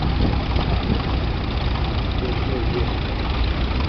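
A McCormick W6 tractor engine runs after a hand-crank start, a steady, dense, close rumble with a low knocking throb that holds level throughout.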